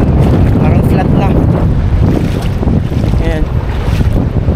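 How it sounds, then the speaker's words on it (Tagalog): Strong coastal wind buffets the microphone with a loud, constant roar, mixed with waves breaking along a rocky shore at Dingalan, Aurora, and a voice heard faintly beneath. "Malakas kasi talaga hangin guys, sorry."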